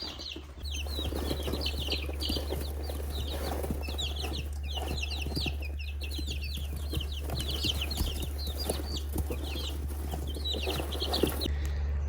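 Chicks cluck and peep steadily in a covered backyard chicken enclosure, the small chirping calls dense and continuous over a constant low hum, with no talking.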